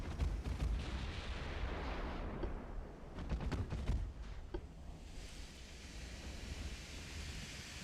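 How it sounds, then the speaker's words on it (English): Torpedoes fired at enemy ships in the naval battle game Ultimate Admiral: Dreadnoughts, heard as a steady roar of sea and wind with a cluster of sharp, booming launches and gunfire bursts around the middle. "we launched torpedoes at them"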